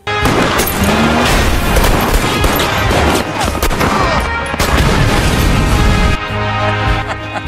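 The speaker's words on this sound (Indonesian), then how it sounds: "Billy sudah menunggu mereka dan menembaki mobil mereka yang mendekat." Gunfire in the film Seven Psychopaths as shots are fired at an approaching car: a loud, dense volley of rapid bangs and impacts that runs continuously before briefly easing near the end.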